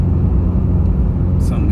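A car drives along the road in a steady low rumble heard from inside the cabin, loud and continuous, with a brief lighter swish near the end.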